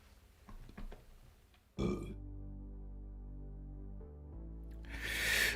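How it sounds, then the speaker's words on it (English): A person lets out a long, low burp after eating a McDonald's sandwich, a close, drawn-out rumbling belch of about three seconds that swells again at the end, preceded by faint clicks. "Sorry, I'm trying not to burp on the microphone."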